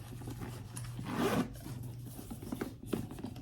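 The double zipper on a Coach handbag's large pocket is pulled open, giving one close, raspy zip with light rubbing and handling of the bag around it.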